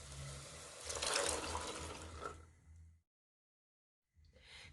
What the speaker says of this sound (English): And now we're going to add our seasoned black beans.